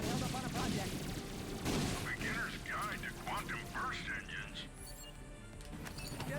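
Enemy gunfire in Ratchet and Clank (2016), bursts of rapid shots and cracks with bright zapping game effects, while a person talks over the action.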